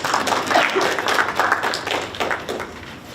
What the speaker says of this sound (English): Clap, clap, clap for cookies.